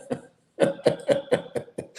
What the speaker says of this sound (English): I have a cough that I can get rid of.